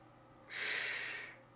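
One soft, airy rush of breath blown through a French horn mouthpiece, lasting under a second in a quiet room.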